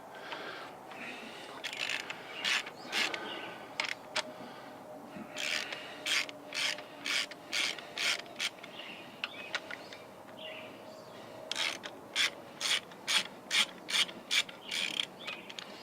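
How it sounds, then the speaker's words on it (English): A ratchet wrench with a 13 mm socket turns repeatedly to take the stock tensioner off a Porsche 928 engine. It gives bursts of rapid clicking with brief pauses between strokes, close and clear, and there is no talking. "take off the stock tensioner, 13 mil socket"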